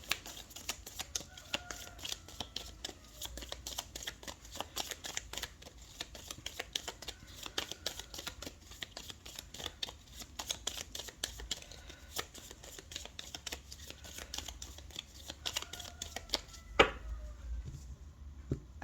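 Tarot cards being shuffled for a reading, a rapid run of soft riffling slaps and flicks that continues for many seconds at a close, moderate level. One sharper tap comes near the end, and no one speaks.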